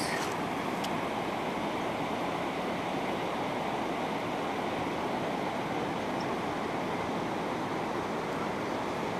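Heavy floodwater rushes past after torrential rains near Canoinhas, a dense, steady roar that fills the whole scene without letup, with no voices over it.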